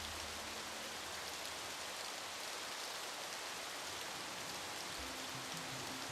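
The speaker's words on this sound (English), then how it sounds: "I see the rain, just hear it," Rainfall in the fantasy video game For the King, a dense, continuous hiss of rain that runs evenly and fairly loud from start to finish, with no talking over it.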